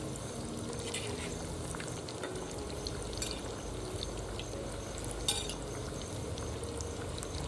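Dill (shepu) vadi fritters shallow-fry in oil in a pan while being gently turned: a steady, close sizzle runs throughout, with a few faint scrapes and clicks, and no talking.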